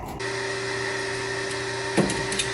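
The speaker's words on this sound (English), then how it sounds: "Okay, the lathe is wired and working." A workshop lathe runs with a steady, even hum and a clear motor whine throughout, a brief scrape or knock near the end, no voices.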